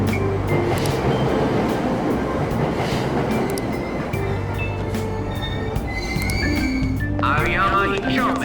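Train noise from Persona 5 Royal at Aoyama-Itchome station, a steady rumbling rail drone with wheel and mechanical tones throughout and a brighter squealing burst near the end, under a recorded platform announcement voice.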